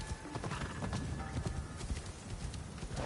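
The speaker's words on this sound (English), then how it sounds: "let's grab our taxi, or also known as the horse" A horse's hooves clip-clop in Assassin's Creed Shadows, a steady, moderately loud patter of hoofbeats over game ambience with no talk.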